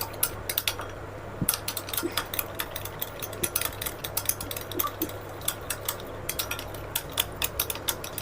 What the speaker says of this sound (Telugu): ఒక ఎగ్ తీసి వేసుకొని బాగా కలుపుకోవాలి.